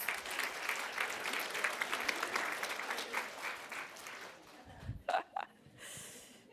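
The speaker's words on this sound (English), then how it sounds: "Give them a round of applause." A conference audience gives a round of applause, moderately loud clapping that fades after about four seconds, followed by a few close breathy gasps and snorts.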